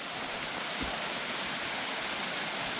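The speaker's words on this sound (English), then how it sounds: "you can hear the waterfall now. It sounds like it's in full flow with all the rain going on" A waterfall in the Blue Mountains runs in full flow during rain, a steady broadband rushing roar that stays even and unbroken throughout.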